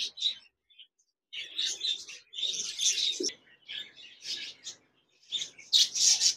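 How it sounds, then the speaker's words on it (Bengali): A pair of large budgerigars in a cage chirps in quick, bright bursts and short trills, fairly soft and close, with brief pauses between calls. "এখানে দেখতে পাচ্ছেন একজোড়া বাজরিগার পাখি রয়েছে"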